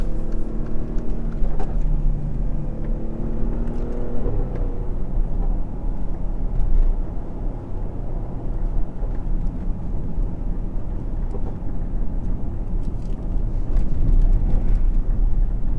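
A 2017 Mercedes-AMG GLE43 engine drones steadily at low pitch while driving, heard from inside the cabin with road and wind rumble underneath and no voices.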